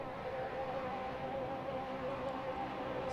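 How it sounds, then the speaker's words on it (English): Race car engines at an ATCC series round at The Bend bounce on the rev limiter before the race start, a dense, steady drone of revving engines at a distance, with no talk. "Someone's bouncing on the limiter back there."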